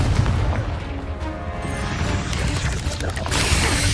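A Confringo blasting spell goes off in Hogwarts Legacy, giving a booming, rumbling burst against busy background game noise. A voice may sound faintly in the mix.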